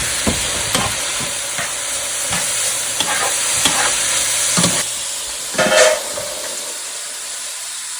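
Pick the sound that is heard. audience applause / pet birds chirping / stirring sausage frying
stirring sausage frying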